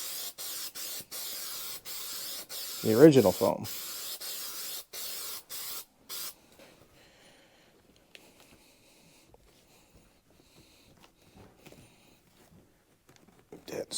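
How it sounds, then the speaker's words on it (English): Aerosol spray can coating the underside of seat foam in an International 1110 pickup build, a series of short steady hissing bursts followed by quiet handling noises, with a voice talking. "now I'm going to spray the bottom side of these"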